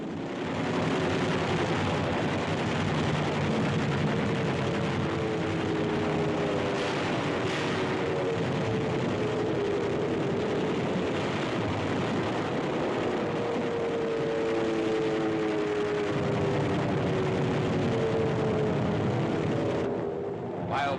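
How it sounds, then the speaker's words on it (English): World War II warships' anti-aircraft guns fire at attacking Japanese aircraft during the Okinawa campaign, a dense, constant roar of gunfire and engines with narration running over it throughout. "Guns aboard the warships bring down many of the raiders."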